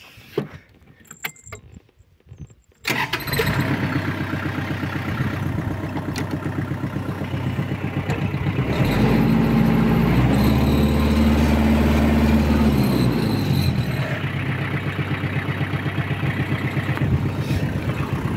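A Kubota GL 467 tractor engine starts after a brief rattle and then runs steadily, rising to a louder throbbing stretch before settling back to an even idle, close and continuous.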